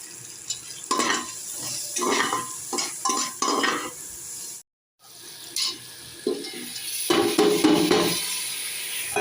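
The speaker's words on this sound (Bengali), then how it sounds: "তো ঝিঙেটাকে তেলে দিয়ে দিয়েছি।" Ridge gourd fries in hot oil in a pan with cumin seeds and green chilli. A steady loud sizzle is broken by stirring scrapes and bursts of spatter, with a short silent gap midway.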